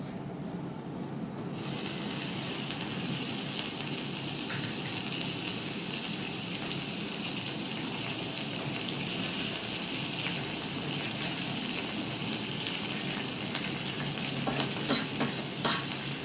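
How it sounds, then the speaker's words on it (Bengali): Soaked raisins fried lightly in a pan for payesh give a steady, close sizzle with faint stirring; a brief quiet moment comes first, then the frying sound holds evenly to the end. "হালকা ভেজে নেব"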